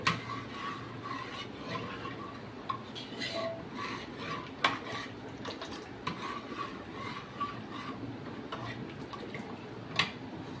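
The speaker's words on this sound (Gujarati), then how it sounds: "થોડી કોથમરી એડ કરી દઈએ અને દાળને હલાવી લઈએ" A spoon stirs tangy-sweet dal with coriander and grated coconut in a pressure cooker pot, giving soft repeated clinks and scrapes against metal over a quiet background.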